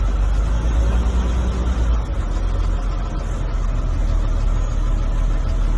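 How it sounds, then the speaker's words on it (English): A school bus engine hums as the bus pulls forward at about 5 mph for a brake test, a steady low rumble with a brief dip partway through, no talking. "I'm going to place my bus in drive and I'm going to pull forward 5 miles per hour"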